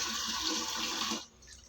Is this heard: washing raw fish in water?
yes